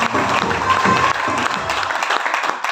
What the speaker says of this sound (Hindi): सारे लोग के लिए ताली हो जाए।